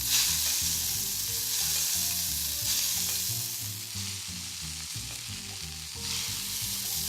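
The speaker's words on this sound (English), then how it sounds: "So now that we have the butter nicely seasoned, go ahead and just baste the lambs with it." Lamb loins sizzle steadily in a pan while being basted with seasoned butter, a loud, continuous frying crackle with spoon-stirring sounds and no talking.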